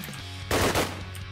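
A short, loud burst of rapid gunfire rings out in a video game battle, standing alone against a low steady background hum.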